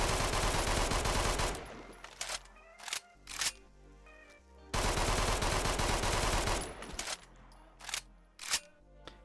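Full-auto .45 pistol from a Fallout 4 weapon mod rattling off two long, loud sustained bursts, each trailing into a few short separate shots with mechanical clicks between.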